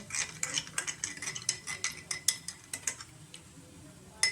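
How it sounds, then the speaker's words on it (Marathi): A spoon stirs protein powder made from dry fruits into a glass of milk, giving a run of quick metallic clinks and taps against the glass, irregular and close, with no talk. "त्याच्यात आपण एक चमचा आपली आत्ता केलेली प्रोटीन पावडर घालू असं हा हलवून"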